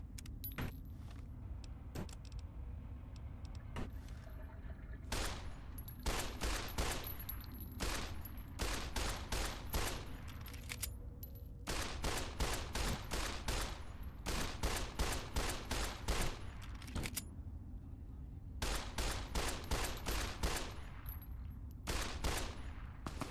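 A sniper rifle fires repeatedly in the Fallout video game, a long string of sharp, bright cracks in rapid bursts with short pauses between groups, loud over a low rumbling game background, with no talking.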